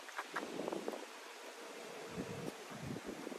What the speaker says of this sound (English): It is like super windy out here.